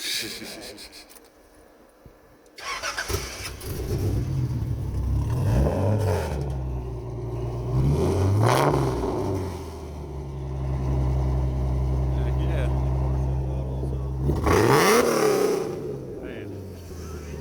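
A Nissan 200SX engine revs loudly and close, rising and falling through several throttle blips with sustained high-rpm stretches, after a quiet start.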